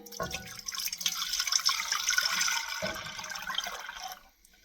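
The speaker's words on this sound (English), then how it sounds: "I've added the water, so I'm just going to pour that in." Milk and water pour from a measuring cup into a soup pot for creamy chicken and wild rice soup, a steady splashing stream lasting about four seconds before tapering off, close and alone.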